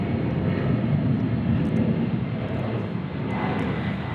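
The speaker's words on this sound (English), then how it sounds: "We got departures for FedEx going to Denver and also Lubbock, Texas. So a 767" A FedEx Boeing 767 jet departing Memphis airport, a loud, steady roar of jet engines with broad rumbling noise, heard continuously throughout with no talking.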